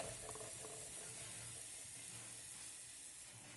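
Hot oggarane tempering poured into ground tomato mixture for a coconut-free tomato gojju, a soft steady sizzle and hiss that holds evenly throughout, fairly faint with a faint low hum beneath.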